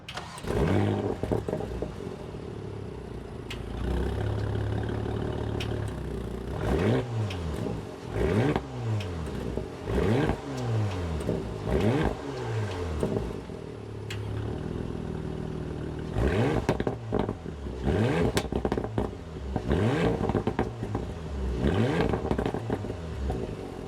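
A 2024 Porsche Macan S with a 2.9-liter turbocharged six-cylinder revs repeatedly, rising and falling in sharp bursts, with a throaty exhaust rumble and crackles between revs, loud and close.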